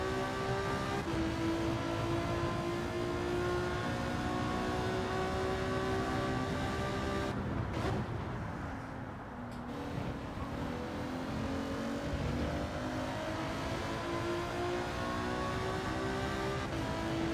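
Group 4 race car engine in Gran Turismo 7, a loud sustained whine with rising and falling pitch through gear changes, a brief dip in revs near the middle, then climbing again.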